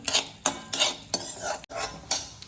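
Melon and pumpkin seeds sautéed in a pan for dry fruit laddoos, a spoon scraping and stirring in rhythmic strokes about every half second, with a soft dry rattle of seeds against the metal and no voices.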